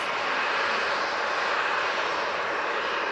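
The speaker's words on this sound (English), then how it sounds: "And the RyanAir's coming on" A Ryanair airliner's jet engines at Manchester Airport give a continuous, loud, hissing roar, steady and close for the whole stretch.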